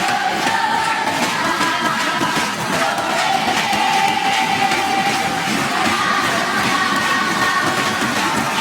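Spectators at an Asian Games 2018 tennis match in Indonesia make a loud, continuous crowd roar with cheering and shouting that holds steady throughout.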